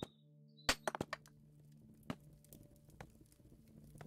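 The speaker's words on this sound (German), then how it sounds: "Franzi knallt auf Stein rum." Character in the video game Founders' Fortune striking stone, a series of sharp knocking hits, a quick cluster early and then scattered single blows, fairly quiet over a soft ambient bed.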